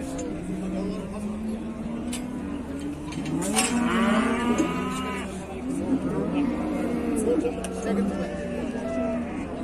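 Cattle at a livestock market, with several loud drawn-out moos close by over a busy crowd murmur and people talking nearby.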